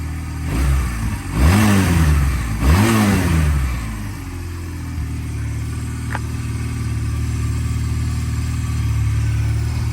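A 1996 Honda Rebel 250cc motorcycle engine revs hard twice in quick succession, rising and falling up close, then settles into a steady loud idle.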